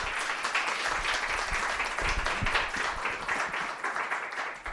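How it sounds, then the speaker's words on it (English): A lecture-hall audience applauds at a justice-system talk, a steady dense wash of clapping with some louder individual claps near the front, sustained throughout without speech. "Can everybody please give Professor Pinsker a big round of Thank applause?"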